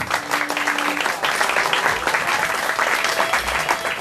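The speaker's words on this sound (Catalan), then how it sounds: "Un fort aplaudiment, sisplau." Strong, sustained applause from a concert audience celebrating Teresa Badia's birthday, a dense even wash of many hands clapping together throughout.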